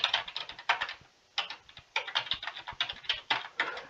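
Username keyed in on a computer keyboard: close, crisp clacking in quick bursts with a short pause, irregular rhythm, keys heard alone without any voice.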